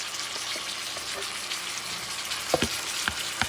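Bison flat iron steak and onions frying in a pan, a close, steady crackling sizzle with a few sharper pops and spatters near the end.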